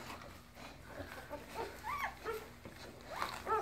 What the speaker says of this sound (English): So here's the puppies.